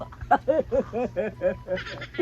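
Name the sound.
chicken (rooster) clucking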